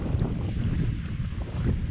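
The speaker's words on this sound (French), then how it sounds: "Très venteux. It's very windy." Strong wind gusting along the riverbank at Kamouraska, buffeting the microphone as a continuous, loud low roar with slight surges and no talking.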